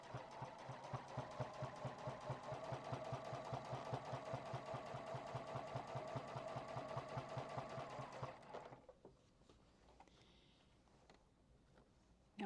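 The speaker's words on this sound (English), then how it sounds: "I will continue sewing" A sewing machine topstitching binding on a quilt, running in a steady rapid chug of needle strokes for about eight seconds, then stopping and leaving quiet handling sounds.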